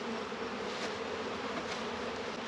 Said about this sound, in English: A bunch of bees came back to the trap, which happens because they like this spot.